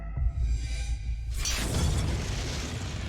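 Fire bursts out in an inn in a video game: a quiet low rumble gives way to a sudden loud whooshing roar that keeps burning and crackling afterward.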